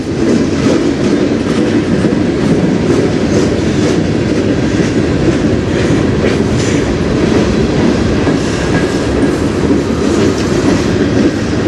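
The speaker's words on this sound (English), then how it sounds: "Hopefully this is not a long train." A train on the Strathroy Subdivision rolls past close by, a loud continuous rumble with clickety-clack wheel beats and rattling cars throughout, no talk.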